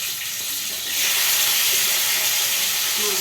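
Fish dropped into a hot frying pan, a sudden bright hiss of sizzling oil that swells and holds steady, close and loud, with no talk.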